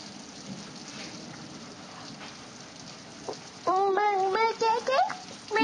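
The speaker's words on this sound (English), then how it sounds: "there's thunder too" Steady rain with thunder in a storm, a soft continuous wash of falling water heard from indoors, with a voice breaking in over it toward the end.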